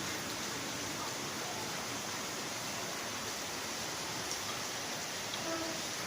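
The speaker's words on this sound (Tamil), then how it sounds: "மழை செம்ம மழை போங்க" Heavy rain pours steadily during a rainy morning at home, a dense, even hiss of falling water with no breaks, close and moderately loud throughout.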